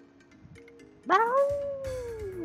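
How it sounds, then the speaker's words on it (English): A monster in a video game lets out a single loud, rising howl that sweeps upward and then slowly falls away, sustained for over a second after a quiet, low-level game background. "You feel the menace of the monster's howl."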